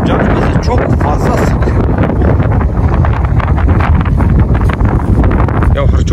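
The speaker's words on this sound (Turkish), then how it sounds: "Bu rüzgar var ya bu rüzgar." Strong wind gusting outdoors on a hillside near grazing sheep, roaring continuously and loudly across the microphone, with a voice partly buried beneath the buffeting.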